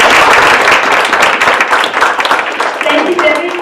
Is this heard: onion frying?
no